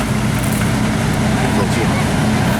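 A new De Tomaso Pantera's engine at the Chantilly Arts & Elegance 2015 concours holds a loud, steady low idle rumble that continues unbroken for a few seconds, with faint crowd murmur in the background.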